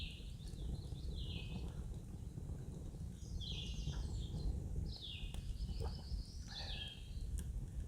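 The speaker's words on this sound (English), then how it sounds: "listening to the birds" Birds chirp and call in short repeated bursts over a steady low rumble of outdoor ambience on a foggy lakeside morning at a wilderness hot-tent campsite.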